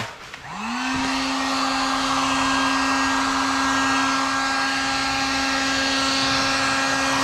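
A heat gun warming 3M adhesive tape on a BMW M3 spins up within the first second, then holds a loud, steady blowing whine at close range with no talking.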